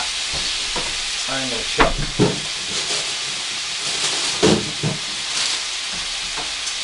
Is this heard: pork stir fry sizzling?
yes